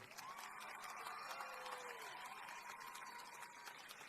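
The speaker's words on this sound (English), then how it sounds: "One more round of applause for Karen Portillo." Distant, faint applause from a high school commencement audience for a graduating student, a steady soft patter mixed with crowd murmur and cheering tones.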